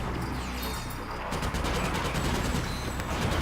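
Rapid video-game gunfire from Ratchet: Deadlocked, the PS3 remake, with dense overlapping shots and crashing impacts forming a loud, continuous barrage throughout.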